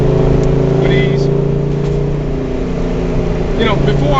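A 1971 Chevelle with upgraded suspension cruises and takes turns, its engine holding a steady, loud low hum throughout with a brief rise near the end.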